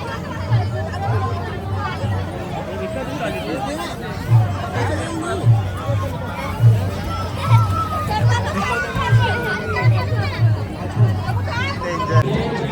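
Crowded village fair for the Savaridev puja in Kirvali: constant chatter of many nearby and distant voices, with a regular low drumbeat thumping steadily through the hubbub.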